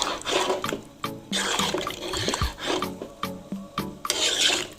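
A spoon stirring white bean sauce in a pot as a splash of leftover tomato water goes in, with close, wet scraping and rasping strokes in uneven bursts and short pauses between them.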